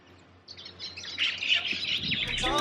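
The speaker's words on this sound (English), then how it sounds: "There's all these birds, man." Several birds chirp and tweet outdoors in Hawaii, bright overlapping calls rising from near quiet into a busy, close chorus that keeps going to the end, with no talking.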